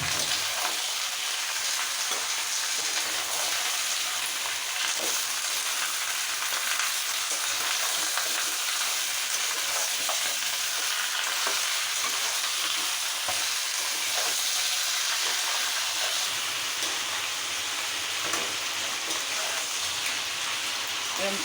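Chicken sautéing with onions and oil in a pan, a constant bright sizzle like steady rain with occasional faint stirring scrapes, loud and unbroken throughout.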